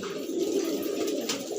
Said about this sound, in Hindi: कैसे कबूतर है।